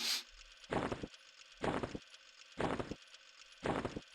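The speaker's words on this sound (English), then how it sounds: "I hope my mouse noise isn't coming across the stream too much, but it probably is" Computer mouse clicking during an EverQuest tinkering session, four evenly spaced pairs of quick clicks close to the microphone over a quiet background.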